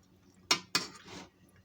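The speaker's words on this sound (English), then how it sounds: "Let's stir this quickly." Two quick clinks of a utensil against a bowl while stirring basil-free pesto pasta with pumpkin seeds, followed by a soft scrape, close and quiet.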